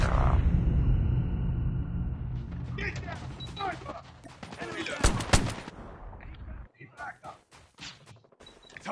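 Assault rifle gunfire from a mobile shooter game, AK117, KN-44 or AK-47, crackles in sharp repeated bursts across the clip, mixed with in-game effects and background talk.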